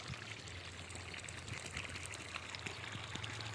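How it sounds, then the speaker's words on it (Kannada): Water running from a borewell on a farm, a steady faint pouring and trickling stream that continues evenly throughout with no voices. "ನೋಡಿ ಎಷ್ಟು ಎಷ್ಟಪ್ಪ ಬರುತ್ತೆ ನೀರು"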